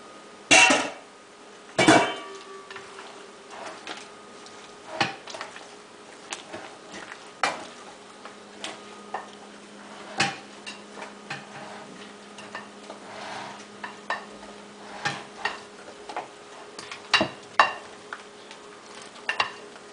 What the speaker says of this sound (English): I want you to combine everything.